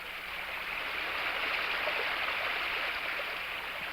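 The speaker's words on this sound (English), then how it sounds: "The flowing water offers visual surprises. It caresses the stones with their bumps and hollows" Water flows over bumpy, hollowed stones in small pools with a steady, even rush. It stays soft and continuous throughout, with no voices.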